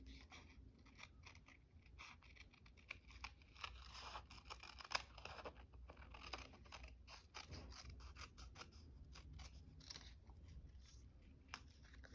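Repeated crisp snipping and cutting clicks of scissors, close and quiet, in an irregular rhythm throughout.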